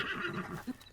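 A short, close horse whinny from The Legend of Zelda: Breath of the Wild, breathy and wavering, heard alone.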